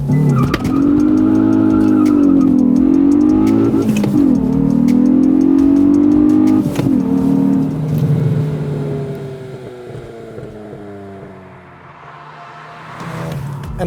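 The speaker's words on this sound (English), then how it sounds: "press the clutch, first gear, then push the accelerator pedal and let the clutch go" A Hyundai i20 N launches hard in N mode, its engine note rising steadily through the revs close by, dipping briefly at gear changes, then easing off as the car pulls away.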